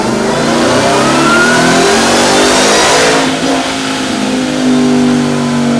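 Ford Raptor R truck with a ported blower revs hard on a dyno, a loud, close engine roar climbing through the pull with a rising whine and a short dip partway through.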